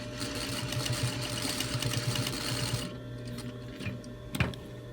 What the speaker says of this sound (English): I'm pulling the bottom elastic out of the way so I don't sew it.